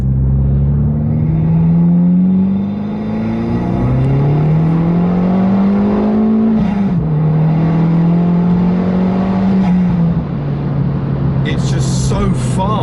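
A modified big-turbo Abarth 595 rated at 225 bhp accelerating hard, its engine note climbing steadily through the gears with a loud, close exhaust drone and brief dips at the shifts.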